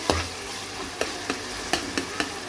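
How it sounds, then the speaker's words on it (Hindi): Spices with red chili powder and cumin frying in a pan, a steady close sizzle punctuated by regular scraping taps of a spoon stirring. "इसके साथ साथ 1 चुटकी हम इसमें ज़ीरा शामिल करेंगे और इसको अच्छे तरीके से हम जो है ना वो भून लेंगे।"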